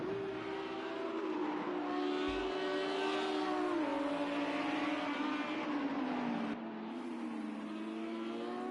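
Race cars accelerating out of a turn at Sonoma Raceway, with engine notes rising and shifting as they pull away, heard at a moderate distance and fairly faint, with no talk over them.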